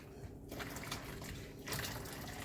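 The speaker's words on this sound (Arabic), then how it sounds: "تعالوا كده الميه اللي بتغلي" Boiling water pours from a kettle into a jar over garlic and vinegar for pickled cucumbers, a steady close splashing stream filling the container with no talk.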